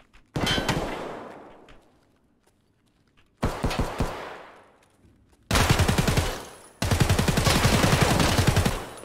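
Loud automatic gunfire in the Escape From Tarkov video game, four separate bursts of rapid shots with ringing echo decaying between them, the last two long and close together.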